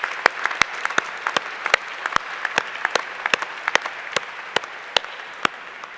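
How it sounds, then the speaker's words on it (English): Applause fills a hall at a doctoral graduation ceremony, a soft bed of crowd clapping with several sharp, louder individual claps standing out close by. "So, yeah, that's worth a clap"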